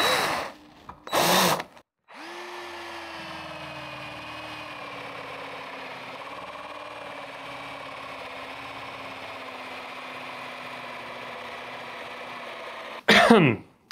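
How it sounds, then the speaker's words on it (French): Parkside 20V cordless drill boring into wood with a 76 mm adjustable spade bit, a steady loud whirring drone for about eleven seconds, with brief knocks before it starts and a short burst at the end. "On va passer à une mèche infâme. Une mèche à un pan réglable."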